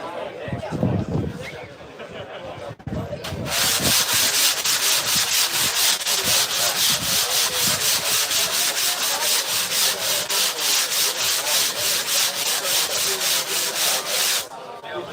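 A surfboard is sanded by hand with coarse 40 grit sandpaper, making loud, rhythmic back-and-forth rasping strokes close by for about eleven seconds, preceded by brief quieter handling noises.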